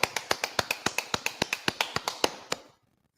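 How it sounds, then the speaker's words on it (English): About sixteen sharp, evenly spaced claps in a quick steady rhythm at a scripture class, crisp and close, stopping abruptly with a brief silence after. "let's clap it up"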